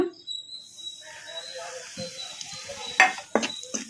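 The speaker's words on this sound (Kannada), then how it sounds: "ಈಗ ಇವನ್ನೆಲ್ಲ ಎಣ್ಣೆಗೆ ಹಾಕಿ ಫ್ರೈ ಮಾಡ್ಕೊಂಬಿಡೋಣ" Ground coriander, turmeric, chilli powder and garam masala frying in oil on a low flame, with a soft steady sizzle and spoon scrapes, plus a few sharp clatters near the end.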